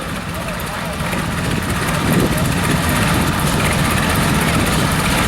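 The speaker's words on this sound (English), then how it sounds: "I think the Sawyer-Massey engine is unique." Sawyer-Massey antique engine running at an outdoor antique power show, its steady low rumble droning loud and continuous throughout with crowd noise and voices mixed in.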